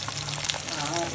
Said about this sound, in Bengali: তেলে দুটো তেজপাতা আর কাঁচা লঙ্কা পেঁয়াজ দিয়ে ভাজছি